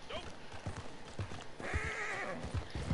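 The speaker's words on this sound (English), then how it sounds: "Shut up, horse." Horse hooves clip-clopping with a whinny in the online western game Red Dead Online, a steady run of hoofbeats broken by a loud drawn-out neigh in the middle, with faint game sounds behind.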